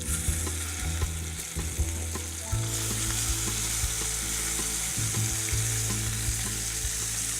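Duck pieces frying in a pan just after being flipped, a loud continuous sizzle and crackle with occasional sharp pops and utensil taps, close and without speech.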